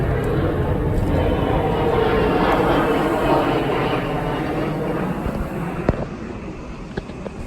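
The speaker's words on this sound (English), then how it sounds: "Another military jet, hold on." A military jet flies overhead near an Air Force base, a broad steady roar that dominates the whole stretch, loud and continuous with slight swelling and fading, a few sharp knocks near the end.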